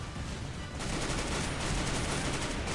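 Sustained gunfire in the Garena Breakout mobile shooter, a dense, steady wash of overlapping shots running unbroken across the whole stretch at a loud, even level, with no talking.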